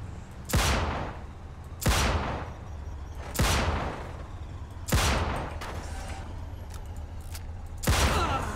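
Five sharp gunshots fired at police in the game Mafia 2: Definitive Edition ring out at roughly even intervals, each a loud, punchy crack followed by a short decaying tail over low ambient rumble.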